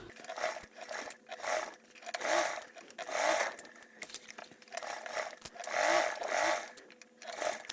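A sewing machine runs a basting stitch with a 1/8 seam allowance on an insulated tote, whirring in short repeated bursts with brief pauses between runs, close and clear with no talk.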